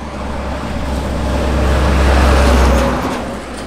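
Steady road traffic rumbles along a Vietnamese highway where trucks pass often, with a loud, deep continuous roar that swells toward the middle and eases off near the end.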